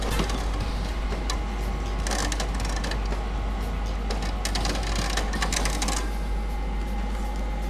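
Wire feed motor of a Tradeweld MIG200 welder pushing wire through with the inch button, giving a steady mechanical whir with faint ticking over a constant low hum, close by and alone without talk.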